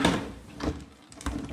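A cupboard drawer that has come off its runner is pulled open with a few scraping, knocking bumps, close by and moderately loud.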